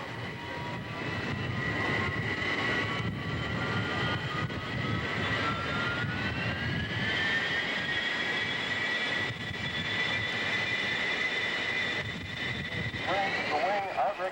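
An aircraft flies at an air show, its engine roar sustained and loud for the whole stretch with a slowly shifting pitch, while a voice talks underneath.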